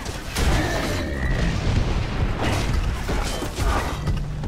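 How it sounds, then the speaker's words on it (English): Boomshot grenade launcher rounds exploding in Gears of War 3 Horde Mode, a dense run of loud, rumbling booms and crashes one after another with gunfire and clatter mixed in. "Let's keep firing boom shots"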